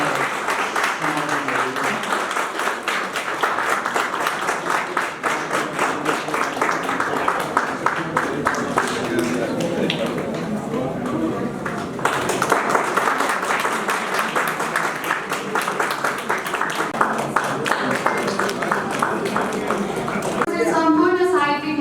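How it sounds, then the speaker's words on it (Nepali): An audience applauds at a muktak poetry evening in Nepal, clapping steadily for a sustained stretch while an announcer's voice runs over it and later continues. "ताली बजाइदिनु होला"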